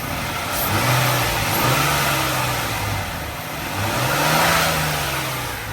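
A 2001 Nissan Maxima's stock engine revs up twice, each surge rising and falling in pitch, loud and close with no talking.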